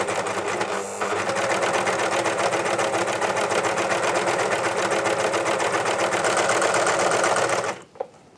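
A Janome 134D overlocker runs at high differential feed with stitch length near 3.5, a loud, steady rapid motor whir and needle clatter for about eight seconds that stops abruptly with a small click.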